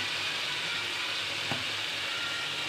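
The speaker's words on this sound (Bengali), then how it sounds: "সবগুলো উপকরণ একসঙ্গে মিক্স করে আবারও এক থেকে দেড় মিনিট মশলাটাকে কষিয়ে নেব" Spice masala, with salt, dried chilli powder and a little water, fries in a pan with a steady, soft sizzle and one faint clink partway through, with no talk.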